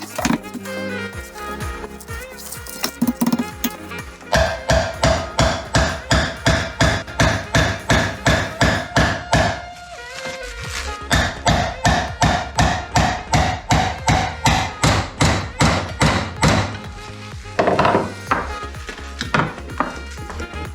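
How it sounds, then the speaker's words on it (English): A hammer taps a Timken front wheel bearing casing into place on a Classic Mini, a close, loud run of sharp metallic strikes in quick rhythmic bursts with brief pauses between series. "I will just give it a couple of more taps just to make sure."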